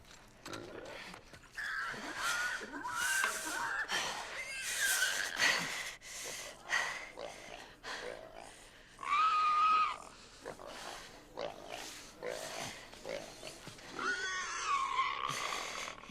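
A wounded boar in The Last of Us Part 2 Remastered, squealing, snorting and grunting in distressed bursts that rise and fall close by, with pained cries repeating across the stretch and no talk over them.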